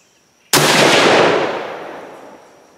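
A single sharp rifle shot fired with a 40.8-grain Ramshot TAC powder load, an abrupt loud crack trailing into a long echoing decay outdoors, no talking.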